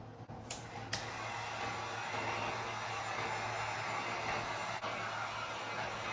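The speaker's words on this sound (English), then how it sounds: "I'm using this heat gun that I got at Walmart for about 10 bucks" A cheap handheld heat gun blows hot air onto a vinyl stencil design on wood to burn it in. The roar is steady and continuous, with a low hum underneath, close and loud, and no one speaks.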